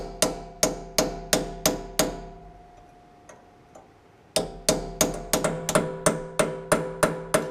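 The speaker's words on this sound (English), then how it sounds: "Try not to whack you with the hammer, I guess." Repeated hammer blows on the wheel hub of an Oliver 1365 tractor, sharp metallic strikes in a steady rhythm, a brief pause with a couple of light taps, then a faster run of close, loud hits.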